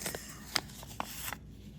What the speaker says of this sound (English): I cut it with my scissors